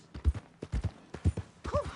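Horse hooves clip-clop steadily on the ground in the video game Red Dead Redemption 2, close and clear in uneven paired beats, with a short snort or whinny near the end.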